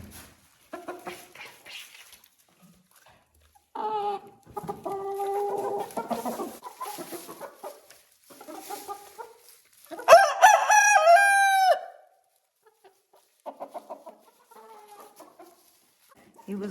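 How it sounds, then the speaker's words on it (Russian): An Ameraucana rooster crows once, loud and close, while chickens cluck in short bursts before and after the crow. "я сейчас смотрю на этого петуха Амераукана"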